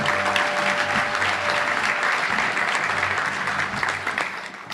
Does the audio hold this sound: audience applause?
yes